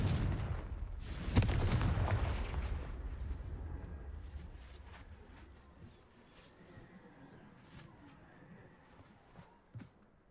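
A Confringo fire spell blasts in Hogwarts Legacy, a loud explosive burst with a sharp crack around the first two seconds, then a rumbling decay and a few scattered pops.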